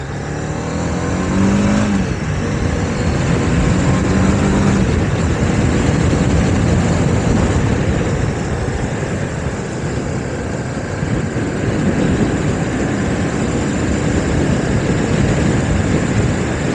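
A 2019 Honda CB300R with a 300cc engine is ridden on a country road. Its engine drones steadily and loud under heavy wind rush, with brief shifts in pitch as it moves through the gears.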